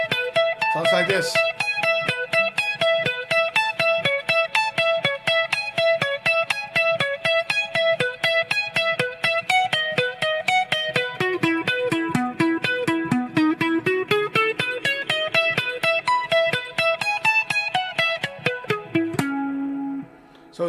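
Electric guitar plays a short melodic piece with no delay effect, a steady run of distinct plucked notes with a bright, slightly driven tone, continuous for about twenty seconds before a final sustained note.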